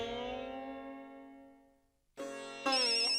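A phone rings on speaker in a Hindi sitcom scene, with a sustained musical tone decaying, then a brighter electronic ringtone starting and stepping up in pitch; no speech is heard.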